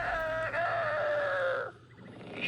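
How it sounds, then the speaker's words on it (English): Chicken clucking and squawking in a steady, loud run of harsh calls for about a second and a half, then breaking off abruptly into quieter noise. "Officer Gotcha clucked rather angrily at Wordsworth for a moment"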